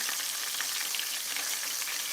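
Gluten-free chicken coated in cornstarch fries in hot oil with a steady, bright crackling sizzle, close and continuous with no talk.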